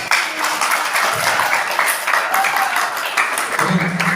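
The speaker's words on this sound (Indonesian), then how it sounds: "Tepuk tangan yang mulai dulu." A school audience at a student council (OSIS) candidates' debate at SMA IT Budi Luhur claps in a steady, moderate burst that continues throughout, with faint voices mixed in.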